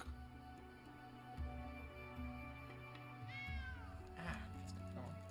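A cat meowing in the video game Pathfinder: Kingmaker, a drawn-out mewing cry partway through, layered over steady game music and ambient tones.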